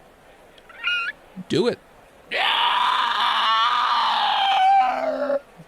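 A man imitates a long, harsh screech for about three seconds, rising and then trailing off hoarsely, right after brief spoken words and a short vocal yelp.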